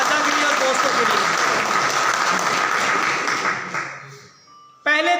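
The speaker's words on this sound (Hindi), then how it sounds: "पहले 3 इनाम, भरपूर तालियां होनी चाहिए" Audience applause at a district-level tournament prize announcement, loud and sustained for about four seconds before fading, followed by a brief ringing tone at the end.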